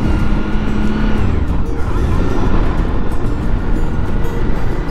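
A Suzuki V-Strom DL1000 motorcycle engine drones loudly and steadily while riding, with heavy wind rush over the continuous motor noise.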